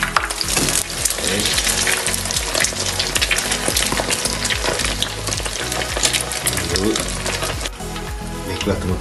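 Eggs fry loudly in hot oil in a pan, a dense, continuous sizzle with crackling pops and clatter of stirring utensils, and a brief spoken word breaks in.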